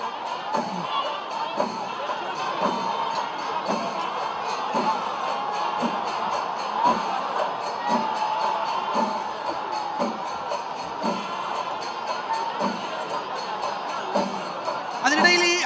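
Far-off crowd roar fills the Thrissur Pooram festival ground, a steady, murmuring din with faint rhythmic drumming pulsing underneath.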